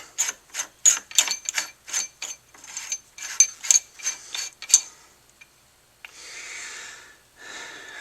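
An AR-15 free-float quad rail being threaded onto the barrel gives a run of rhythmic metallic clicks and ratcheting scrapes, close and fairly loud, then a brief pause and a softer scrape near the end.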